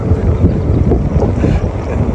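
Wind gusts across the microphone in Birds Hill Provincial Park, where kites fly and a Onewheel rides, producing a constant loud low rumble and buffeting with no voices.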